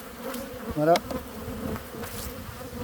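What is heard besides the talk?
honey bees buzzing while put back into hive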